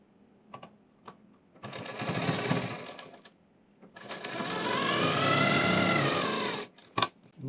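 Sewing machine stitching a blouse in a tailor's shop, running in two sustained bursts with short taps and pauses between them, loud and close.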